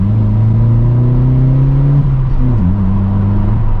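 A Vauxhall Corsa with a straight pipe exhaust revs up loudly and close by, its engine note rising steadily, then dropping and wavering as the revs fall back.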